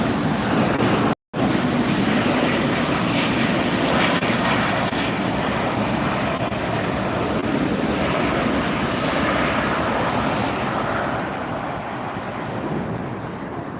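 A Southwest airliner on approach to land at LAX, its broad jet roar loud and steady throughout, with a brief dropout early on and some wind noise.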